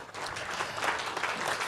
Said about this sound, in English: So definitely a round of applause for you guys.